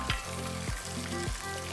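Chicken 65 pieces frying in masala in hot oil, a steady close sizzle with a few soft stirring scrapes repeating at regular intervals.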